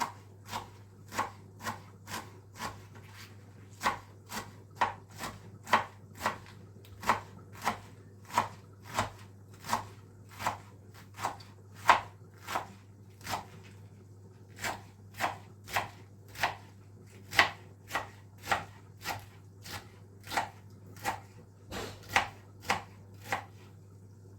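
Steady, rhythmic knife chops on a cutting board, dozens of crisp close strikes at an even pace with no voices.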